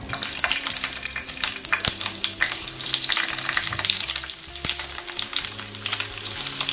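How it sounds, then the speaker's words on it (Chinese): Green peppers stuffed with enoki mushrooms fry slowly over low heat in oil in a flat pan. A close, continuous sizzle is speckled with crackles and occasional sharp spatters, and a faint low hum runs beneath it. "将辣椒放进去，小火慢煎。"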